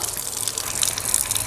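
Water gushes and splashes over hands being washed during ablution, a short, steady, close rush of running water.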